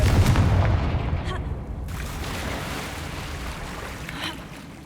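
The Confringo fire spell in Hogwarts Legacy goes off as a loud, close explosive boom. A rumbling roar follows and fades steadily over several seconds.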